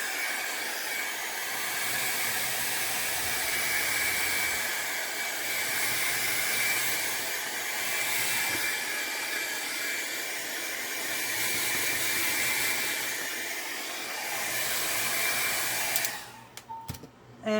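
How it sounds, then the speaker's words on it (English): A blow dryer drying paint and ink whirs steadily at close range for about sixteen seconds, then cuts off abruptly. "now I'm going to take my blow dryer and make sure that this is completely dry"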